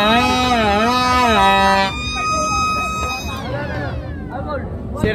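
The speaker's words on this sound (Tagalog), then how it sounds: "Sirena yung iyo eh." A wailing siren sweeps up and down loudly during a New Year street celebration in Tondo, then shifts to a steadier tone and fades away beneath background noise.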